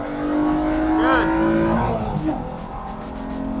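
A car on a race track pulls out of a corner, its engine note rising as it accelerates near and loud, then dropping back. People talk under the engine noise.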